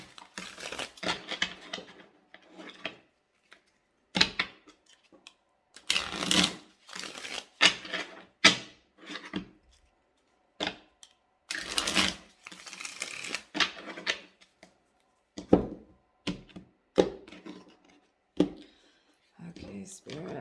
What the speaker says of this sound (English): I'm going to go ahead and give this a shuffle real quick just to get this done.